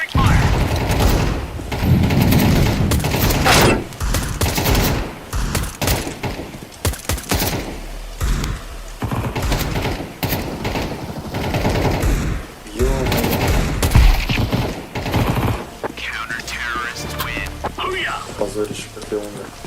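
Rapid automatic Kalashnikov rifle fire in a video game comes in loud, dense bursts, with booms and mechanical clacks. It runs under frequent excited talking and ends in quieter, tonal game sounds.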